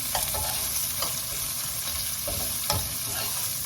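Onion, ginger and garlic sautéing in a pan for ginisang monggo (Filipino mung bean stew), a steady close sizzle broken by several short scraping stirs, with no talking.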